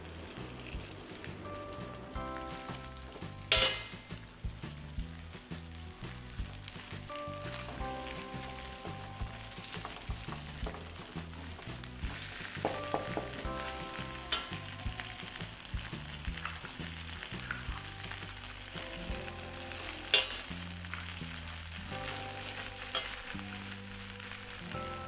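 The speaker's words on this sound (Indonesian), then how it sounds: "Kita aduk-aduk terlebih dahulu untuk daging kornet ini." About 150 grams of corned beef crackles and sizzles in a pan, with soft scraping and occasional clinks of a utensil stirring, steady and close, no voices.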